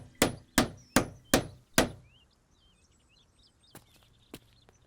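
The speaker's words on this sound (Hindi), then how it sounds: "यह हथौड़ा किस लिए?" A hammer strikes a to-let board five times in quick, even succession, each a sharp, loud wooden thwack, then two fainter knocks follow later while birds chirp softly in the background.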